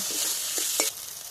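Spice paste and chillies fry in a pan for jackfruit curry, a bright continuous sizzle with a couple of quick stirring scrapes.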